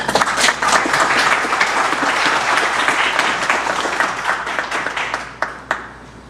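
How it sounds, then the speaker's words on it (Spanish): A hall audience claps steadily in welcome for a speaker at a Panamanian public-works ministry event on civic literacy, loud dense applause that thins into a few scattered claps at the end. "Recibamos con un fuerte aplauso al doctor Miguel Antonio Bernal."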